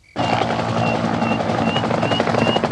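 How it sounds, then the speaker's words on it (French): A helicopter starts up abruptly and runs loud and close, its steady rotor and turbine roar filling the whole stretch with a faint rhythmic chop. "On va réquisitionner l'hélico de François."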